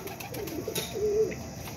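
A pair of pigeons flap their wings as they take off and fly away outdoors, with quick soft wingbeats and a faint coo nearby.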